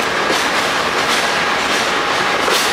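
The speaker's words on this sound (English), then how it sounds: "Looks like that could be the Vermonter train." A train rushes past very close, a loud, unbroken roar of wheels and rails with no voices over it.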